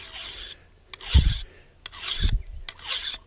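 A hand file drawn along the edge of a fairly soft steel Latin-style machete, four distinct rasping strokes with short gaps between them, close and clear, no talking.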